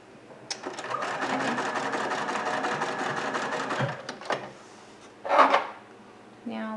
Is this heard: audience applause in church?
no